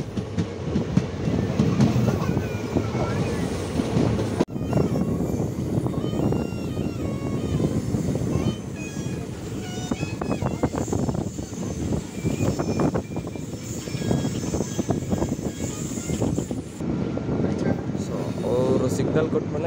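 A Vande Bharat express train moves along the track, with rumbling wheels and clickety-clack over rail joints heard from inside the carriage, steady and loud, while people talk nearby.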